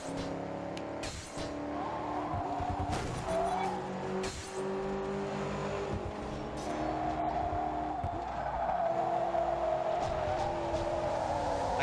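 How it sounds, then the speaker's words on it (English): Racing-game car engines from an Xbox 360 title, a steady loud drone of revving and shifting engine pitch that rises and falls throughout, with brief squeal-like bursts and no talk over it. "I'm kind of surprised it's just the engine noises"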